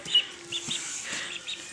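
A duck gives a few soft, short clucking calls close by, spaced irregularly over a quiet background with a faint steady hum.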